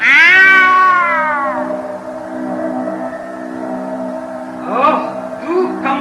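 A black cat in a Hindi cassette audio drama gives a long, loud, wailing meow up front, followed by quieter mewing calls and a few shorter cries, with no talk.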